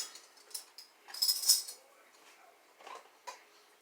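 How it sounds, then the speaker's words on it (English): Concord grape wine stirred to dissolve sugar, a few light clinks and scrapes of a utensil against the container, faint and sporadic in a quiet room, with no one talking. "Give your wine a little stir."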